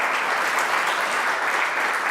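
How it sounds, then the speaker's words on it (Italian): A lecture audience claps to welcome a philosopher and writer, a dense, even burst of applause heard close and alone, holding steady for the whole short stretch. "e abbiamo con noi Maura Gancitano, filosofa, pedagogista e scrittrice, che accogliamo con un applauso."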